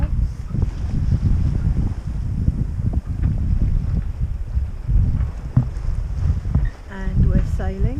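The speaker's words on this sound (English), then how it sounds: "we're sailing just under the main" Westerly Oceanranger 38 sailing yacht under mainsail alone off the Normandy and Channel Islands coast: steady rushing water along the hull and wind buffeting, loud and continuous, with a few brief voice-like tones near the end.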